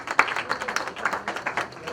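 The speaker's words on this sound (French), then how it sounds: "Je vous prie de l'applaudir" An audience applauds a Congolese writer at a celebration of International African Writers' Day, with dense, steady clapping from many hands lasting a couple of seconds and no speech over it.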